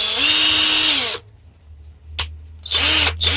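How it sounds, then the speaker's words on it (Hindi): A cordless 21V drill machine runs at high speed, its loud steady whine cutting off, pausing briefly, then spinning up again alone. "तो काफ़ी अच्छी ये ड्रिल मशीन बनी हुई है।"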